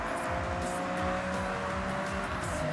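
A Nissan RB26 inline six-cylinder engine in the Forza Horizon racing game drones steadily and loudly throughout, with a continuous revving tone and tire noise.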